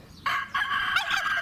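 A rooster crows nearby, one loud, harsh, strained call about a second long that breaks into a rising final note, with other birds faintly in the background.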